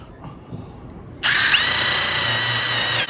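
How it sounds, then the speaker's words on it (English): A power sander with sandpaper whirs to life after a quiet moment, then holds a steady, loud high-pitched buzz close by until the end. "Might need to go to higher grit sandpaper."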